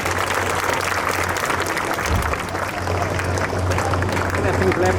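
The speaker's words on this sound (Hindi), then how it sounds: "एक बार जोरदार तालियां।" Audience applause at a school annual function, a dense steady patter of many hands clapping throughout, fairly loud, with a low hum beneath.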